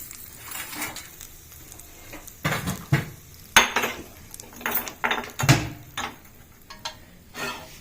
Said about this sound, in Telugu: ఇప్పుడు పెంక పెట్టుకుంటామండి